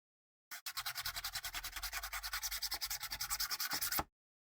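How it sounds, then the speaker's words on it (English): Rapid, even back-and-forth scrubbing of sandpaper on a surface, about thirty strokes over three and a half seconds, close and fairly quiet, starting and stopping abruptly. "Let's test their sandpaper."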